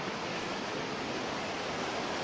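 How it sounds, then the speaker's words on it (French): A waterfall on a mountain trail in Grand Bassin, Réunion Island, roars as a steady, dense broadband rush that holds even and constant throughout, close and continuous with no voices. "on est sur cette belle cascade"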